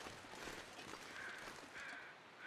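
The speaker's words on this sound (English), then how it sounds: "these crows are just circling over a body over here, I think." Crows cawing over a body in The Long Dark video game, a few faint drawn-out caws spaced apart over a dense hiss of wind.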